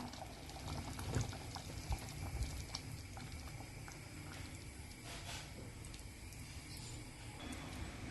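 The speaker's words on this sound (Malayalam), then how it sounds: "ഇവിടെ ഞാൻ 250 ഗ്രാം ശർക്കര 1/2 കപ്പ് വെള്ളം ഒഴിച്ച് ഉരുക്കിയെടുത്തിട്ടുണ്ട്. ഇതൊരു അരിപ്പയിലൂടെ അരിച്ചൊഴിക്കാം." Melted jaggery syrup, 250 g of jaggery dissolved in half a cup of water, is poured through a strainer: a soft, continuous liquid trickle with faint patters and light clinks, close and quiet.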